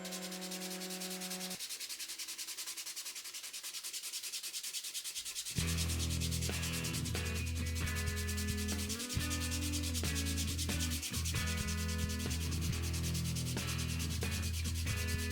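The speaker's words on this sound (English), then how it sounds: "time to do some serious sanding again" Steady, continuous close-up sanding of a handmade shudder tail golden shiner softbait lure body, a dense rubbing rasp that grows fuller partway through and continues without pause, with no speech.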